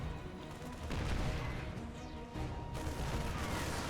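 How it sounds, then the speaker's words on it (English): Gateway building exploding in a StarCraft 2 match, a dense burst of crashing, crackling blasts amid ongoing battle gunfire, with several sharp impacts and a dip partway through, loud and busy. "We do have a big gateway explosion."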